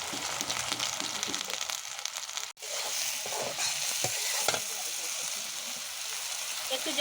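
Giant freshwater prawns (golda chingri) are sautéed in a pan with ginger-garlic paste, turmeric, coriander and cumin powder, a splash of water added as the spices cook down. A steady sizzle runs throughout with occasional stirring scrapes and one brief drop near the middle.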